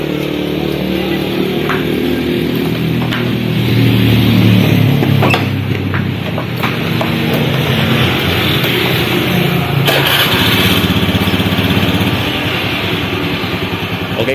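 A Honda Beat FI motorcycle runs after its fuel pump filter has been cleaned. The engine hums at a steady idle for around fourteen seconds, close by and fairly loud, with occasional clicks and knocks over the drone.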